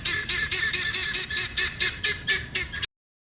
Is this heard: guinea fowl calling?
yes